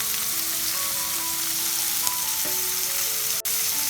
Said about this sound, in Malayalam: അടുത്തതായി നമുക്ക് കുറച്ച് വെളുത്തുള്ളി ആഡ് ചെയ്യാം.